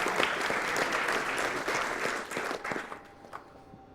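Applause from a group, a dense patter of clapping that holds steady and then thins out toward the end, with no talk over it.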